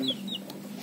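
A chicken gives a few short, faint clucks in a quiet setting, with some soft background rustle and no talking.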